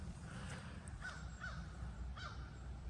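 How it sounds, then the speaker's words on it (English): Several crows caw in short rough bursts against a steady low rumble of background noise, calls coming from a moderate distance. "y'all hear all the crows flying around?"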